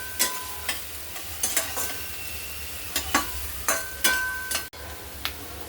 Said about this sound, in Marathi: कांदा मस्त गोल्डन कलर येईपर्यंत परतून घ्यायचा।